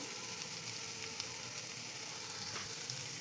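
Vegetable momo filling, seasoned with salt, sizzles quietly in a pan, a faint continuous hiss with a few soft scrapes of stirring, no voices.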